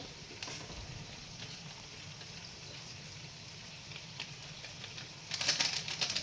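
Red chili masala frying into a crab curry gravy makes a soft, steady sizzle that swells into a brighter, louder crackle near the end, with no voices.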